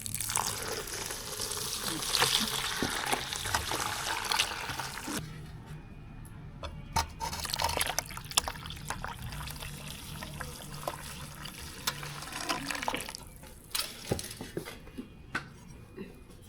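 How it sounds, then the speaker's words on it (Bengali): Milk poured into lachha semai in a kitchen, a steady liquid splashing and trickling that is strongest early, then eases into softer dribbles and clinks. "এবার আমি ঢেলে দেবো এই সিমাইয়ের ভিতরে।"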